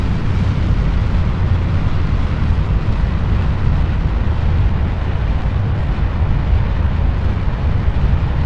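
A rocket engine at full throttle in the video game Kerbal Space Program: a loud, steady, dense roar that holds without a break throughout, with no voices.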